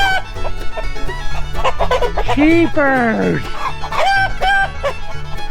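Chickens cluck and crow loudly and continuously near a chicken tractor under construction, layered calls overlapping, with someone speaking briefly among them.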